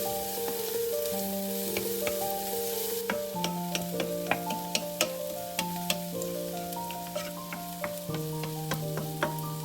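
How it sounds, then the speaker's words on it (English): Minced garlic, onions and parsley sizzle in a pan with a few clicking stirs scattered throughout, under steady tonal background music for the whole stretch. "Add the minced garlic to the pan with the onions and parsley and cook for just about 30 seconds, stirring constantly."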